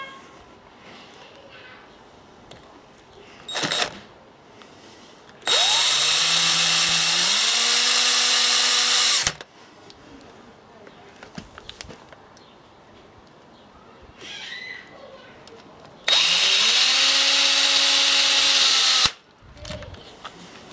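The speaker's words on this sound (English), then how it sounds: "then you can start drilling" A power drill drives screws into a concrete block wall in two loud, whining bursts of several seconds each, its pitch shifting as each screw bites, with quiet handling noises between.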